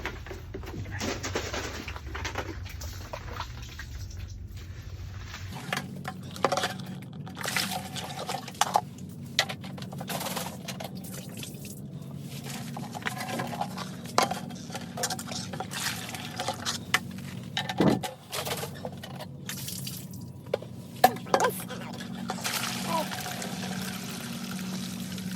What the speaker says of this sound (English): we're going to do a triple rinse of all the containers with a little bit of the water from the site